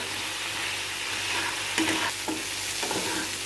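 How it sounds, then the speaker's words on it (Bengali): Potatoes fry with salt and turmeric in a pan, a steady close sizzle broken by a few soft stirring scrapes, with no voices. "এই যে একটু লবণ হলুদ দিয়ে এবার আলুটা একটু ভাজা লই।"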